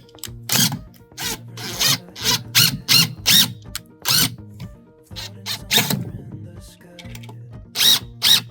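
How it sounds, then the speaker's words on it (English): A power drill pre-drills holes in a wooden ridge beam for rafters on a cabin build, running in repeated short loud bursts with a whining, squealing bite into the wood and brief pauses between them. "Getting all your pre-drilling done."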